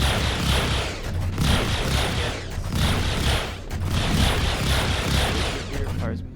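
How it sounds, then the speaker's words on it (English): Vanguard ship cannons in Star Citizen firing all at once in rapid repeating bursts, a loud dense mechanical rattle pulsing in short volleys with brief gaps. "All the cannons fire at once on this one"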